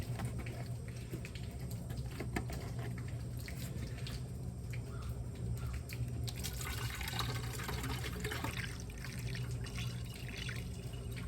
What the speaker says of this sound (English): Throw some coolant in there.